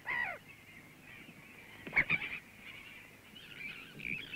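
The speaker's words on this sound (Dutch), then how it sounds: "Op alle Waddeneilanden balsen de kokmeeuwen." Black-headed gulls call faintly at a Wadden Sea breeding colony, a harsh cry at the start and a cluster of squawks midway over quiet background.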